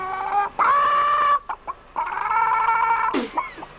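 A voice imitating a chicken in an anime, loud close clucking and drawn-out squawking calls in several bursts, ending with a sharp noisy screech.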